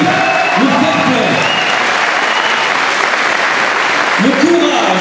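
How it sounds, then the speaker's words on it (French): An audience at a pro-fight semi-final applauds the fighters with sustained, steady clapping, while a voice talks over it at the start and end. "mais on peut d'ores et déjà les applaudir de toute façon"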